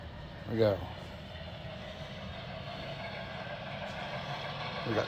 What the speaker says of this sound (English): We got the train pulling forward.